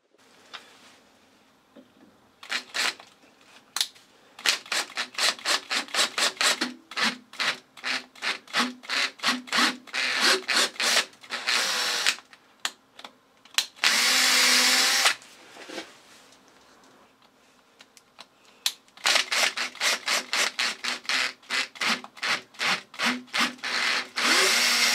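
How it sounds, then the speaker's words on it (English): A tap cutting threads into three holes of a die holder, heard as close bursts of rapid scraping and ratcheting strokes in quick rhythmic runs, separated by short quiet pauses. "So the next thing to do is tap the 3 holes."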